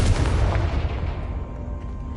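Bombarda and Confringo spell explosions in the game Hogwarts Legacy: a loud, booming blast with a deep rumbling low end that decays steadily over about two seconds, no talk.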